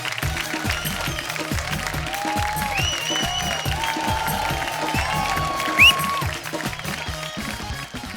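Studio audience applause on a comedy talk show, a steady dense roar of clapping with music playing underneath, and a brief cheer rising near the end.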